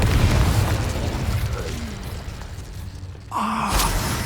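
A Confringo spell explodes in the Hogwarts Legacy video game as a loud, deep boom with a rumbling tail. A second burst follows near the end, and a voice groans faintly.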